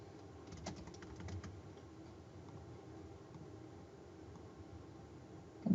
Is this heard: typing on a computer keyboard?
yes